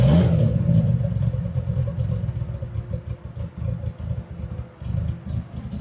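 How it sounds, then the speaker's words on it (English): A drift car at a busy Bangkok car meet revs loudly up close, its deep throbbing engine rising and then settling into a rough, pulsing idle. "Oh, look at that, drift car."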